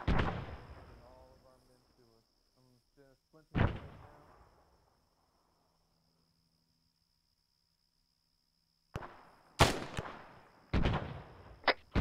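Gunfire in the military shooter game ArmA 3: a loud shot with a long echoing decay opens the clip, another sharp report follows, then a quiet stretch before a cluster of close, sharp shots near the end.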